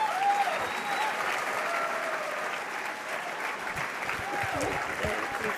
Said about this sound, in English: now keep clapping for these incredible young people